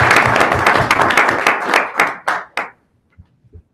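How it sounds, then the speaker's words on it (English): Applause from an audience at a Delaware city council meeting, dense clapping at full volume that thins into a few scattered claps and dies out after about two and a half seconds. "So give yourselves a round of applause for taking part"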